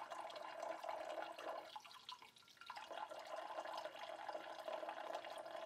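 Water runs steadily from the drain line of a GrowoniX EX100/EX200 reverse osmosis filter being flushed, bubbly from glycerin storage solution, a continuous close trickle that dips briefly midway.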